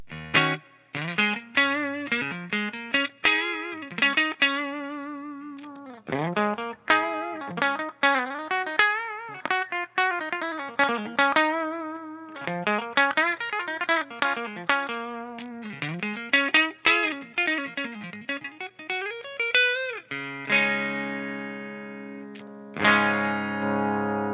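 An electric guitar played through its single coil pickup and a chorus-like effects chain rings out a steady run of clean, shimmering picked notes and chords, ending on sustained strummed chords.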